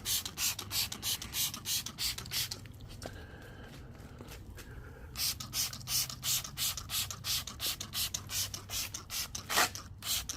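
Cleaner is sprayed onto the worn interior and seats of a van in rapid, repeated trigger bursts, a brief pause midway, then another dense run of close hissing sprays.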